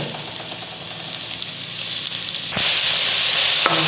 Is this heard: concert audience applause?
no